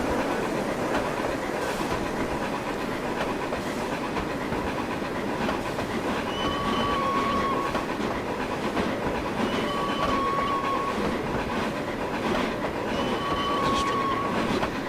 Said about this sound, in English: It's a LNER bell whistle, single chime bell whistle.